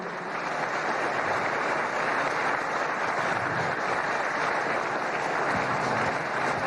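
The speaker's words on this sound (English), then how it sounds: "May we invite everyone to please give a big round of applause to Dr. Su once again." Ceremony guests at an honorary doctorate conferral give a big round of applause, even and continuous clapping heard from a moderate distance that holds steady throughout.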